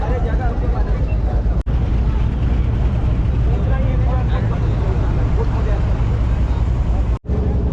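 On a Ganga river boat ride at Varanasi at night, a boat engine drones loud and close in a continuous low rumble, with people talking over it.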